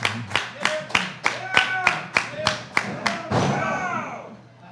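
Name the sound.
crowd clapping at wrestling match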